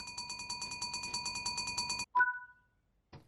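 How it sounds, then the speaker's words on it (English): Fire alarm test on a locomotive control desk in the Train Sim World 6 game on the West Coast Main Line, a rapid pulsing electronic beep for about two seconds, then a short tonal chime and a brief click. "Press the fire alarm test button for 2 seconds to ensure the system is working."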